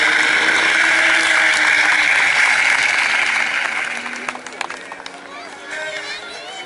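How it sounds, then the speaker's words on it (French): Crowd applause at a sidecar stunt show, a dense, loud wash of clapping that fades and thins toward the end. "applaudissements."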